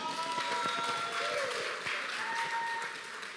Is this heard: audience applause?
yes